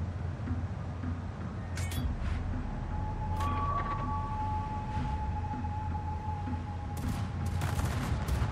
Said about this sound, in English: Provide anti-aircraft fire support.